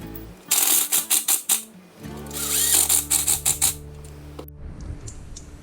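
Cylinder head bolts on a 701 girdled head of a WaveBlaster Superjet jet ski driven down with a power tool, two bursts of rapid pulsing impacts, loud and close, then a ringing tail.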